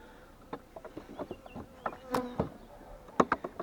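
Honeybees buzzing close by in a hive, with scattered sharp buzzy bursts and soft knocks over a low background hum.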